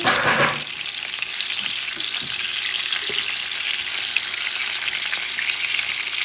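Turkey necks fry in a pan with a loud, steady sizzle after a brief initial burst. A few light knocks sound against the cookware, and no one speaks.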